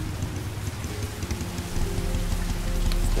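Rain pouring steadily in the video game Heavy Rain, a dense wash of falling water that grows slightly heavier partway through.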